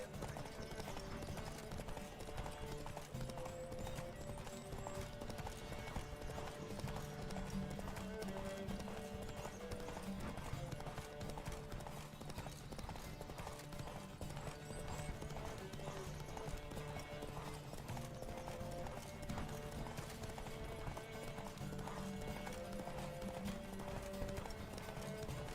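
Horse hooves clip-clop in a fast, steady galloping rhythm throughout a race in The Witcher 3 video game, with an occasional whinny and background music and effects underneath.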